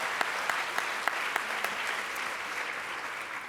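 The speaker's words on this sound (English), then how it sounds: "please give them a round of applause" Steady, moderately distant applause from a conference audience at an art museum educators session on diversity and inclusion, with a few sharper claps standing out.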